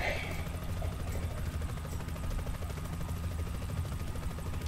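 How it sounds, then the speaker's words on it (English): Helicopter in the video game Expendabros, a steady low rotor chop and engine drone running continuously, with faint game sounds at the start. "Can I blow up the helicopter?"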